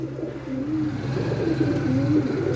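A pigeon coos steadily and close by in a soft, rolling rhythm, with faint background hum and no talking.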